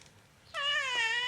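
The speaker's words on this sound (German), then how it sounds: "Das ist eine Katze" A black cat lets out one drawn-out meow that starts abruptly after a brief quiet lull, loud and close with a slightly falling, wailing tone.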